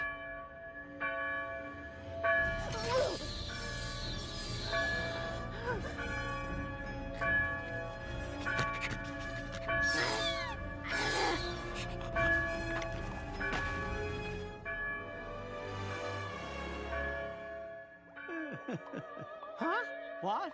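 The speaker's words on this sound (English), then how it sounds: "Ring the bell!" A bell rings steadily in a cartoon scene, a school bell chiming with sustained bright tones over a busy music and effects bed, with voices and brief sweeping effects throughout and a scramble of sounds near the end.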